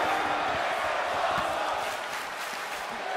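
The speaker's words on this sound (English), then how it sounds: "you hear this capacity crowd following you on that journey" A capacity arena crowd in the wrestling video game WWE 2K23 keeps up a steady, dense roar with cheering and yelling throughout, loud and continuous with no clear breaks.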